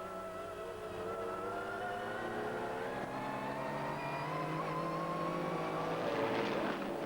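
A Jaguar XJ220 GT race car at Surtees corner, its engine note rising steadily as it accelerates at a distance, a continuous revving whine heard without speech.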